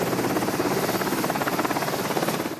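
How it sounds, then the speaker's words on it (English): A helicopter carrying passengers between US Navy warships, the USS Dwight D. Eisenhower and the USS Mason, over the southern Red Sea, its rotor making a steady loud pulsing drone that fills the whole clip. "we took a 5-mile helicopter ride from the USS Dwight D. Eisenhower over to the USS Mason"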